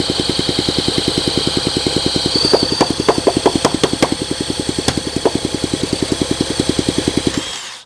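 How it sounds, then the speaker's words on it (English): A Honda SL125 motorcycle, its engine just freed from seizing, runs with a fast, even chuffing beat that picks up briefly under throttle, loud and close. It cuts off abruptly at the end. "Let's give it a little throttle."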